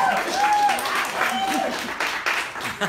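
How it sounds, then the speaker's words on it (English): A live audience at a recorded conversation event claps in a steady, moderately loud wash of applause, with a voice talking over it throughout. "Give yourselves a round of applause"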